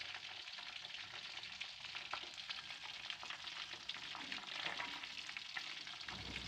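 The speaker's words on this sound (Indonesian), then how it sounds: "Jadi aku langsung aja goreng ikan yang dapetan suami aku jala ya sama temennya" Steady crackling sizzle of fish frying in hot oil, net-caught river fish in a home kitchen pan, close and continuous with no voices over it.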